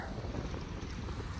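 Strong wind blows steadily across the microphone outdoors at the start of the rainy season, a dense, unbroken rumble with no pauses and no voices.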